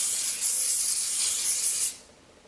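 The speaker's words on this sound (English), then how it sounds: "spray just a little bit of hairspray, nothing too much, just to give it a light bit of hold" Hairspray sprayed onto soft curled hair, a close continuous hissing burst lasting nearly two seconds before cutting off.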